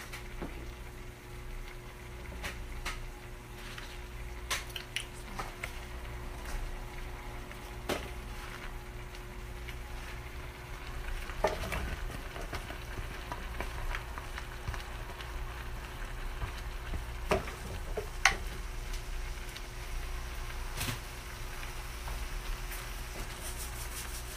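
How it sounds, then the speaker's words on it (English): Salmon fries in a pan with a faint, steady sizzle and scattered crackles and pops, continuous throughout with no talking. "we're about to cook some salmon"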